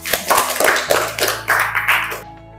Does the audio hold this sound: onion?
no